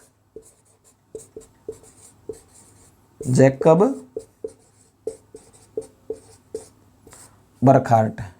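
Handwriting during a history lecture, with short scratchy strokes in a halting rhythm, close and fairly quiet, interrupted twice by someone speaking.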